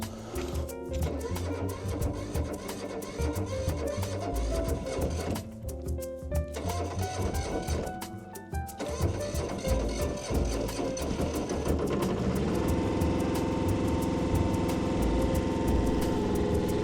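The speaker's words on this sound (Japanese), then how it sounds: "ユンボのエンジンかけていきますよ" A mini excavator's engine starts and settles into a running idle at a rural work site where a boar fence is being built, a close, steady mechanical rumble and clatter with a brief dip partway through.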